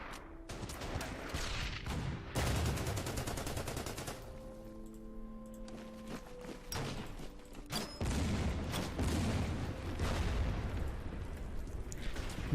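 Gunfire from units in the Order of Battle: Red Steel war strategy game, a dense run of rapid shots and bursts with booming impacts over a steady battle din, continuous for the whole stretch.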